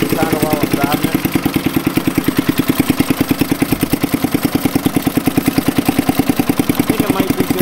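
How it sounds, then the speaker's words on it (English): A small engine on a Monarch idles loudly and steadily while being driven with no throttle connected, a close, even, rapid chugging pulse that holds without change throughout. "so just kind of let it idle kind of while I'm driving it."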